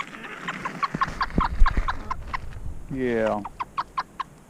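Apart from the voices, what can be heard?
bantam chickens clucking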